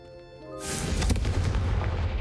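Confringo fire spell blasts in Hogwarts Legacy, bursting like fireworks: a loud booming explosion erupts after a quiet start and rumbles on with crackling bursts.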